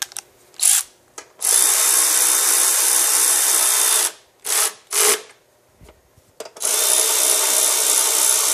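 A power tool drives 10mm bolts into a battery box lid, giving loud whirring bursts in several runs separated by short pauses and brief quiet gaps.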